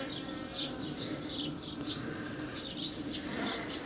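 Honeybees swarm over a hive frame in a queenless colony as young bees emerge, a dense close buzzing with individual wingbeats flaring in and out over a steady hum.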